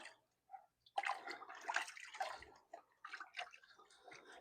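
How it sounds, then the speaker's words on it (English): Cold water splashes and trickles over a rifle barrel during refinishing with a Birchwood Casey kit, a faint, close, uneven rinse that comes in short bursts with pauses between. "Rinse it with cold water"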